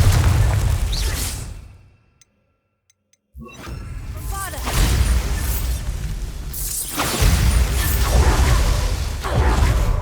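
Confringo spell blasts in Hogwarts Legacy: heavy booming explosions with whooshing bursts, loud and close, one dropping to near silence before another detonation and sustained rumbling debris.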